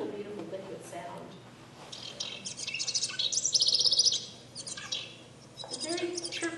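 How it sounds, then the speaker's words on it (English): A house wren's liquid, bubbly song played from a recording, with bursts of rapid high chirps and trills rising and falling in loudness, the busiest stretch near the middle, under a continuous low background hum. "The house wren is really our songster of the group because they just have this beautiful, beautiful liquid sound."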